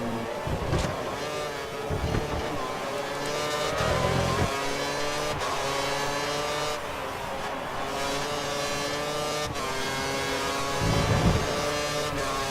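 Formula One race car in the F1 2013 video game at the Singapore circuit, engine note dropping as it brakes into a corner, a loud continuous whine with gear shifts and no talk.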